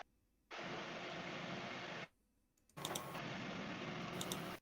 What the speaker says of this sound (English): Hope my printer won't be too loud.